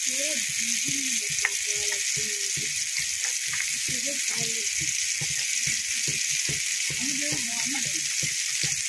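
Garlic, ginger and chili paste frying with browned onion and tomato in a pan, a steady loud sizzle running throughout while a voice talks over it.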